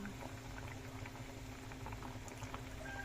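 Vegetables simmer in a home cooking pot, quietly bubbling and gurgling at a steady low level, with small pops scattered through it and no talking.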